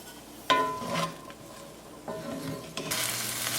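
Tricolor and green peppers sautéing at high heat in a pan, a steady sizzle with stirring scrapes and brief clinks, loudest near the end, with no voices.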